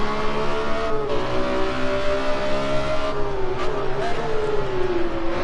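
A race car engine in a sim racing game drones loud and close, with tonal whine that holds steady and then slides slightly in pitch, and a faint tire squeal in the mix.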